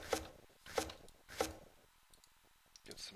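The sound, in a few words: minions chopping trees in Towns video game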